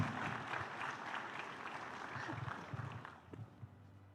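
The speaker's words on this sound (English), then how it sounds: "A huge round of applause." Audience applause at a defence summit panel, a full hall clapping steadily, fairly quiet and distant, thinning out toward the end as a few scattered claps and low voices remain.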